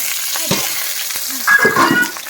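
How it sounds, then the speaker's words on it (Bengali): Chopped onions, two medium ones, sizzle loudly in oil in a pan, the frying growing busier midway, with a few clinks and stirring scrapes. "দিয়ে এগুলোকে হালকা করে একটু ভাজা ভাজা করে নেবো"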